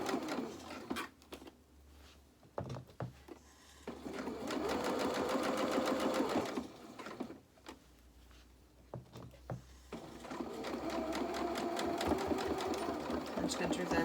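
A sewing machine stitches pyjama bottoms in long, steady runs of rapid clatter, broken by pauses and clicks, with someone talking over parts of the stitching.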